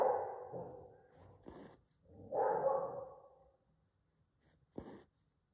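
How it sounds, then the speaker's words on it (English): A dog barking in the distance in a quiet outdoor setting: a few muffled, faint barks spread out over several seconds, with soft breathy noises between them. "You hear the dog in the distance."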